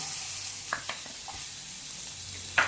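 Onion frying in oil with green and red chilies gives a soft, even sizzle with a few light stirring clicks, faint and with no talk.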